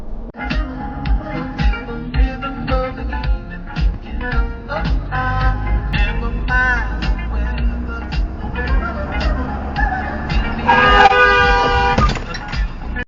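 Car horns honk repeatedly amid road traffic noise, several short toots and one longer blast near the end, fairly loud and close, heard from inside a car.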